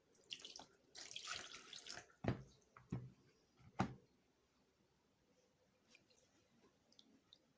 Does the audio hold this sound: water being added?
yes